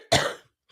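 A single short, harsh cough, close and fairly loud, followed by silence.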